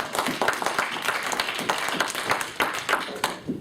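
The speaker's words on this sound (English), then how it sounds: "Have a nice round of applause for all the comics you see tonight." Audience members at a comedy open mic clap, a sparse scattering of individual claps from a small crowd, fairly quiet and irregular across a few seconds.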